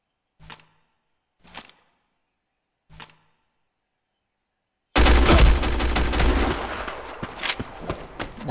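Three isolated single gunshots crack at spaced intervals in the online shooter Black Squad, followed by a loud, sustained burst of rapid automatic fire that continues with rattling shots to the end.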